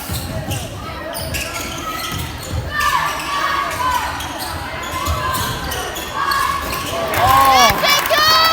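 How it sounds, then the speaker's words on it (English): Basketball action at a boys' 8th-grade game, Newton vs Flora: ball bounces and court sounds ring through a noisy gym, with crowd chatter and excited voices cheering around the play. "Did you hear that swoosh?"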